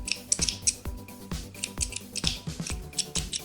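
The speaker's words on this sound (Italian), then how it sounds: "Chiudo e taglio anche questo filo." Scissors snip through yarn during a crochet project, a string of sharp, close cutting clicks in steady succession with no talking.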